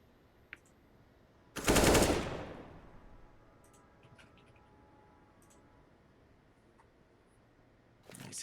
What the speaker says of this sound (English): Nice headshot from Promise.